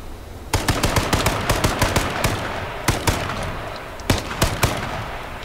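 Gunfire in the video game H1Z1, a string of irregular shots and short bursts, some close and loud and others more distant, with no talk.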